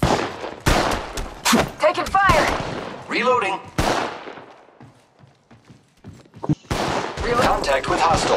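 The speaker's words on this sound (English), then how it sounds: "I am taking fire, friends. Opening fire on the enemy." Gunfire rattles in Apex Legends Mobile, sharp loud bursts of shots separated by brief lulls, mixed with short spoken callouts from a game voice.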